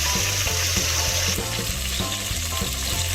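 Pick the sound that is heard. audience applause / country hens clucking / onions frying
onions frying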